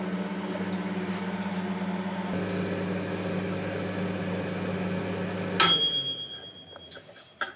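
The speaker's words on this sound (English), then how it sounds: "microwave it on high for 3 minutes" A microwave oven running on high hums steadily for several seconds, its tone shifting partway, then stops with a bright beep and fading ring.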